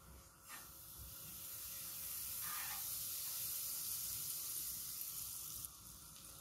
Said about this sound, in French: Dans une poêle, j'ai mis du beurre à fondre.